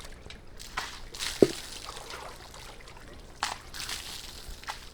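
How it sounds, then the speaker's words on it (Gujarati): Water poured over a cow's head on a village farm, soft splashing and trickling bursts coming and going with a sharp knock partway through, fairly quiet and close, no talking. "પાણી નાખશું માથે એટલે એને પાણી પીવાની મજા આવે"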